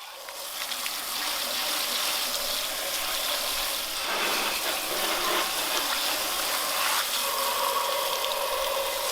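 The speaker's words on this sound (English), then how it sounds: "should thoroughly rinse them off and let them drain" Water rinses a car's fuel cap and flap in a steady, close, continuous gushing spray that shifts slightly in tone as the stream moves, with no talking.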